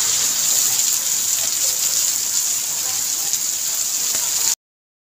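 Heavy rain pours down steadily around a house during flooding, a dense, loud, continuous hiss that holds unbroken before cutting off abruptly.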